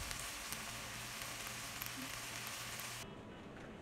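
Egg mixture for chicken fried rice frying in a hot pan, a steady dense sizzle close by that runs without a break and drops slightly in brightness near the end, with no talking.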